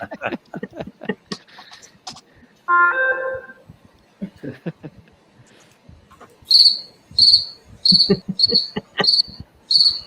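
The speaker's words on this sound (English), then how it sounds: "I downloaded the cricket sound file" A downloaded cricket chirping sound file played during a shop-talk call, coming in as bursts of high, rhythmic chirps in the later half, after a stretch of scattered clicks, knocks and a brief tone.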